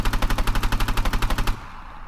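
A rapid burst of automatic HK417 rifle fire in the game Arma 3, about fifteen evenly spaced loud shots, stops abruptly and leaves a brief fading echo.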